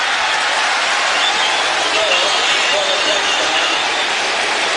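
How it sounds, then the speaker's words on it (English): A football stadium crowd at a Cleveland Browns vs Pittsburgh Steelers game roars and cheers for a Browns touchdown, as a dense, steady, loud wash of noise throughout. "the fans are hungry to cheer for something, and a lot of them cheered the Cleveland touchdown"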